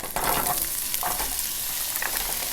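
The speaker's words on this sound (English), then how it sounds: "I'm gonna add my onions in there" Onions hitting hot olive oil in a pan for chicken pot pie, a close, loud burst of sizzling with stirring clatter, then a steady crackle, no voices.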